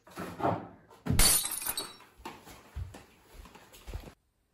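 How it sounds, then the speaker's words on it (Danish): A dropped glass shatters in a kitchen: a bright crash with scattering shards, followed by a few smaller clinks and thuds as pieces settle. "Det var fordi, jeg tabte glas."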